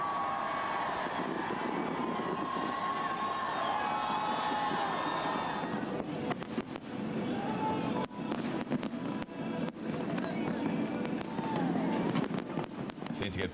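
New Year's Eve fireworks, about seven tons of them, bursting over Sydney Harbour Bridge at midnight: sharp booms and crackles over a deep rolling rumble and a distant crowd, following an opening stretch of tonal sound.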